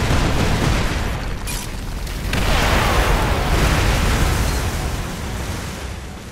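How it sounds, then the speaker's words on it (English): Heavy explosions from adhesive sticky grenades in the video game Fracture, a loud, sustained rumbling roar with a second swelling blast partway through, heard alone. "Use it to fire and then detonate up to 6 adhesive grenades"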